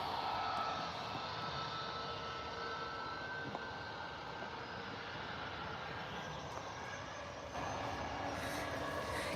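A Ryanair airliner taxis at Manchester Airport, its aircraft engines producing a steady, fairly faint drone that holds for the whole stretch, with no voices.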